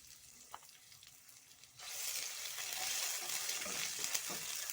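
Garlic and ginger paste stirred into hot oil with whole cardamom, cloves and cinnamon, starting quiet then bursting into a loud, steady broadband sizzle that holds for several seconds, with no voices.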